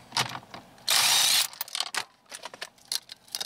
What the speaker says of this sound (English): We're gonna use the impact and we're gonna take that nut right there off